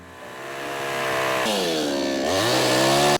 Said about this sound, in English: I'll use the chainsaw to shape it a wee bit